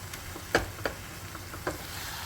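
Eggplant bharta sautés in a pan, a soft continuous sizzle broken by a few sharp clicks and scrapes as it is stirred, close and fairly quiet.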